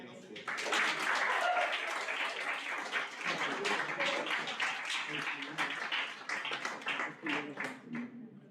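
Audience applause at the close of a talk, a dense spell of clapping with scattered voices and chatter mixed in, fairly loud at first and thinning toward the end.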